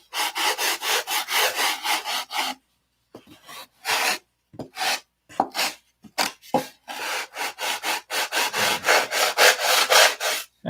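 Sandpaper rubbed in circles over a wooden model plane, a close, steady scratchy rasp in quick repeated strokes, pausing briefly partway before resuming.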